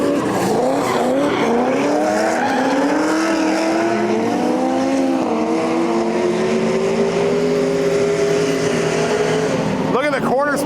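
A Nissan 350Z and a yellow V8-powered car drift in tandem at a grassroots event: a loud, sustained high-revving engine wail with rising and falling pitch, ending in sharp tire squeals, with someone talking over it.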